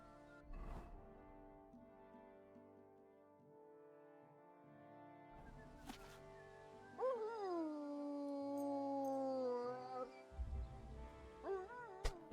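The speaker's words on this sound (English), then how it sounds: "Shut up, dog." A dog in the medieval game Kingdom Come: Deliverance II whimpers and then lets out long, wavering howls that bend downward in pitch, fairly close and clear. Quiet game ambience fills the gaps, with no talking.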